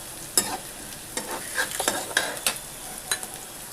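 Chopped onions sauté in a pan for North Indian white peas gravy, with a low sizzle broken by several close, sharp scrapes and clacks of a spatula stirring.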